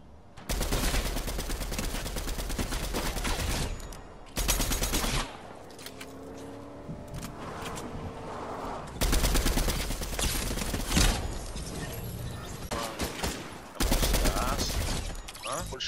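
Gold shotgun blasts in a Fortnite match, heavy bursts of gunfire in dense clusters broken by short quieter gaps, with someone talking under and between the shots.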